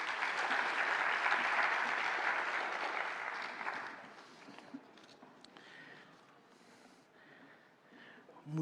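Audience applause at a labour-law congress for a recognition diploma presentation: strong clapping for about four seconds, then fading to scattered claps and room noise with a few soft knocks and movements.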